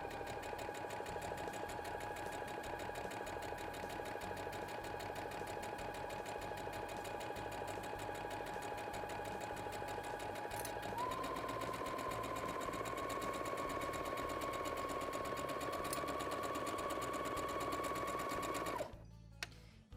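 Sewing machine running a straight seam on a cushion, a continuous steady mechanical whir that holds for most of the stretch and changes pitch slightly partway, close and even, then stopping near the end.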